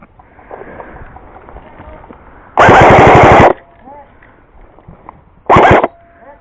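Airsoft guns firing during an outdoor escalation game, two loud full-auto bursts, a long one then a short one, standing out over quiet background with brief talk.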